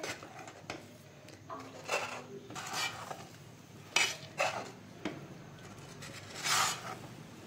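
A spoon works ground mung dal around in ghee in a pan for halwa, making intermittent scraping strokes and metallic clinks against the pan, fairly faint, with quiet gaps between the strokes.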